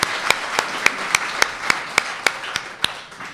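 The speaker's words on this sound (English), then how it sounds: "Big round of applause for Tim." Applause greets broadcaster Tim Lane: a dense wash of audience clapping with a few sharp, evenly spaced individual claps standing out near the front, steady and fairly loud throughout.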